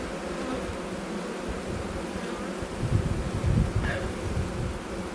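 Dense, continuous buzzing of honey bees inside a hive, loud and close, swelling slightly partway through with no voices present.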